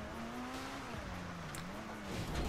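A car driven in a video game, a steady, fairly quiet engine drone with a tone that rises and falls as it speeds up and slows, running throughout with no talk.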